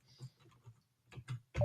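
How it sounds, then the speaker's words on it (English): Quick keystrokes on a computer keyboard as tab is pressed repeatedly in a Linux terminal on a Debian system, a handful of soft, close clicks in a short burst with brief gaps between them. "so I type mes tab tab tab"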